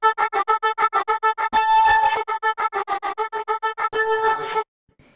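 A chopped vocal loop processed through Harmony Engine's Vibratos preset, its stuttering sung syllables and two held phrases sounding thickened and harmonized with wavering pitch, close and prominent, ending abruptly in silence.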